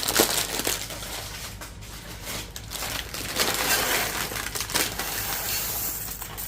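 A whole bag of dry elbow noodles is dumped into a liner-lined crock pot, giving a continuous crinkly rattling and plastic crumpling for several seconds, close and fairly loud.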